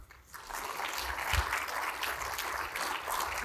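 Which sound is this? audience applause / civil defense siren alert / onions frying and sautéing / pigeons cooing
audience applause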